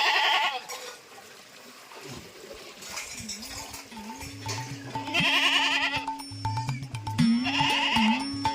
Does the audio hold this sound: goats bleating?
yes